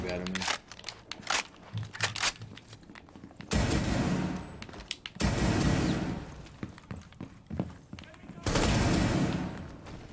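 Gunfire from a player's weapon in Rainbow Six Siege, heavy bursts of automatic shots crackling and booming in several long volleys, close and loud, with someone talking between and over them.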